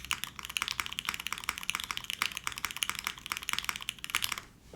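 Keys on a mechanical keyboard fitted with X-ray keycaps clatter in a fast, even run of crisp, close clicks that keeps going for over four seconds with no talking.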